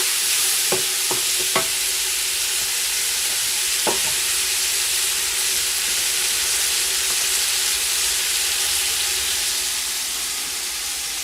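Tomatoes go into a pan of lamb curry and are stirred, giving a loud, continuous sizzle and hiss of frying with a few soft knocks of the spoon early on and no talking.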